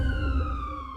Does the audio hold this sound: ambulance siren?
yes